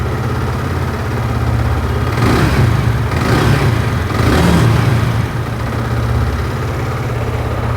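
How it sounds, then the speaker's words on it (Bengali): Close, steady idle of a Yamaha R15 V3 motorcycle, Indian BS6 model, a low even throb with two short rev blips swelling in the middle before settling back. "আর আপনারা ইঞ্জিনের সাউন্ডটা শুনতে পাচ্ছেন আশা করি।"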